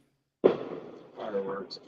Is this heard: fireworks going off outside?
yes